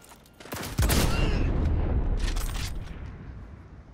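Heavy gunshots ring out in Cyberpunk 2077 on Very Hard with a ricochet build, a loud burst of shots followed by a booming echo that slowly fades.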